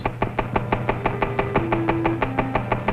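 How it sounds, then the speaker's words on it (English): Rapid, steady metallic knocking from a test engine running on low-octane fuel, evenly spaced sharp raps over a low mechanical hum, with a faint whistle-like tone in the background. "With a fuel of low octane number, here's how it sounds."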